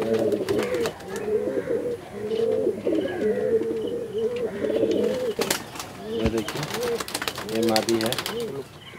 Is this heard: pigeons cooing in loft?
yes